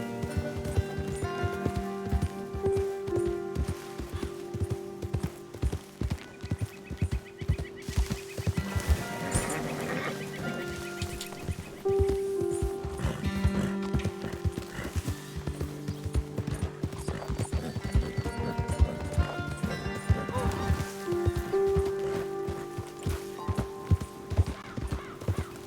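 Galloping horse in Red Dead Redemption 2, with a long, steady drumming of hoofbeats close by, broken by occasional whinnies and snorts over outdoor ambience.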